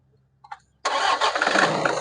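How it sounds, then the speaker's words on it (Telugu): A 2015 Toyota Innova 2.5V diesel engine cranks briefly and catches on the first try, then settles into a loud, close, steady diesel idle. "సింగిల్ సెల్ఫ్ స్టార్ట్ అవుతుంది సార్. ఇంజిన్ అయితే ఎలాంటి స్టార్టింగ్ ట్రబుల్ లేదు."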